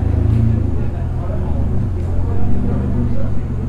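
A classic Austin-Healey 3000 sports car arrives with a low, rumbling engine note that swells slightly toward the end, while someone talks over it.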